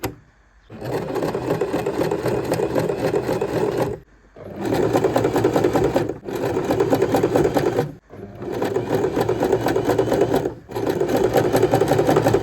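A sewing machine set to the E invisible stitch runs in loud, steady whirring bursts, stopping briefly several times between runs, with no talk.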